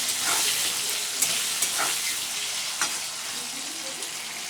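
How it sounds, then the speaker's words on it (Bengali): Potato pieces fry in hot oil with cumin, bay leaf and salt, giving a steady close sizzle and hiss broken by a few light stirring scrapes. "এবার আলুগুলোকে আমি লাল লাল করে ভেজে নেব।"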